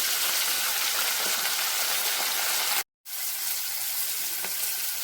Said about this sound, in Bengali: ডিমগুলো দিয়ে দিয়েছি গ্রেভির, দিচ্ছি পেঁয়াজ, red bell paper, yellow bell paper,